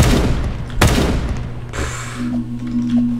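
Gunfire in the Roblox game Da Hood: one sharp, loud shot cracks out early, then a second, softer burst follows over a steady low in-game hum.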